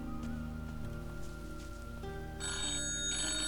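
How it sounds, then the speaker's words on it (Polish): A telephone rings over a dense, steady bed of tonal music and ambience, the ringing swelling in bright and loud during the final second. "Kurde, jeszcze telefon."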